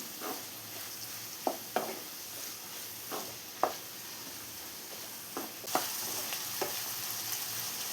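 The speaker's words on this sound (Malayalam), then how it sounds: "ഇനി ഇതെല്ലാം കൂടെ ഒന്ന് സോട്ട് ചെയ്തെടുക്കണം." Vegetables for Schezwan egg fried rice sautéed in a pan, with a quiet background sizzle broken by repeated short scrapes and taps of a spatula at an irregular pace.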